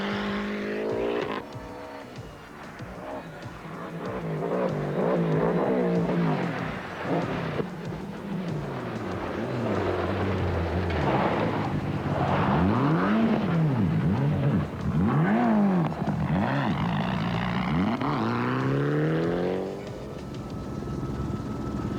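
A rally car at speed on a 1991 Rally New Zealand stage, its engine repeatedly revving up and dropping through gear changes and corners, loud and roaring with rising and falling sweeps throughout.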